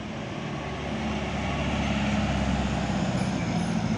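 A Harapan Jaya medium bus from Pare Blitar rolls into the entrance of Purabaya bus terminal, its engine a heavy, steady diesel rumble that builds slightly and stays close.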